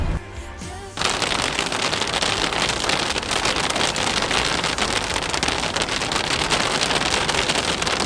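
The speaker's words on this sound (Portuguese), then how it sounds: "Essa chuva de granizo." Hailstorm pelting a vehicle with a cracked window, starting after a quiet second and then a dense, loud, continuous patter of hailstones hammering the glass and body.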